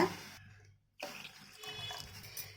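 Water, about one and a half cups, is poured into a pan to dissolve sugar for kolukattai, a brief soft splash that stops, then a steady trickle and gentle swirl, quiet and close, with no talking.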